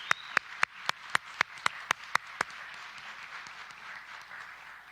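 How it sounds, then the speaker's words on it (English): A single pair of hands claps about ten sharp, evenly spaced times at an awards ceremony, then stops, leaving a soft hiss of room noise with no voices. "Let's give a round of applause."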